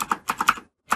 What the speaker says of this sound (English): so now we're going to type another code example beneath that